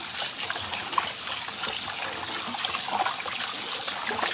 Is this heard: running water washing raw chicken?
yes